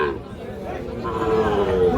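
Cattle at a busy livestock market where Shahiwal bull calves are sold, with a low drawn-out moo rising over a steady crowd murmur and people talking nearby.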